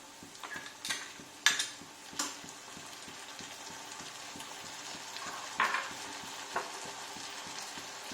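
Oil sizzles steadily as ginger-garlic paste fries, with a spatula scraping and clinking against the pan every so often.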